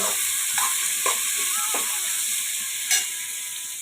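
Raw banana pieces coated in salt, turmeric and spices frying in a pan, a steady bright sizzle with a few sharp clicks and bumps from stirring.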